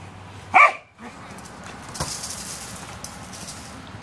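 A pet dog gives one sharp close bark while playing fetch outdoors, followed by faint whimpers and quiet background noise.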